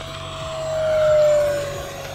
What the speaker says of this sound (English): Let's do a full throttle pass while our battery's nice and full.